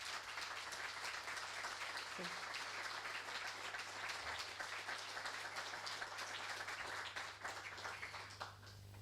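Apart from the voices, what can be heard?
audience applause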